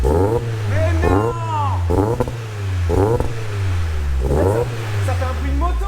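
A tuned car nicknamed the merguez, built for around 400 horsepower, runs on a dyno with a steady, motorcycle-like low drone under close, animated conversation.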